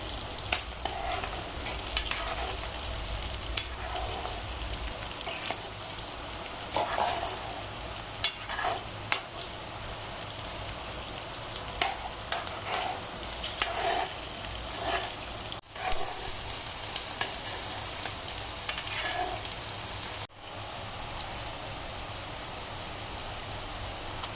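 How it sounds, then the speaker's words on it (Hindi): Green chillies are stirred into a tomato curry in a pan: a continuous close sizzle with repeated scraping and stirring strokes throughout, steady and fairly loud, with no talk. "अब इसको अच्छे से मिक्स कर लेते हैं।"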